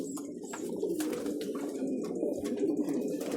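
Taiwan pigeons coo softly in a loft, low throaty murmurs repeating over a steady background hum, with faint higher chirps scattered through.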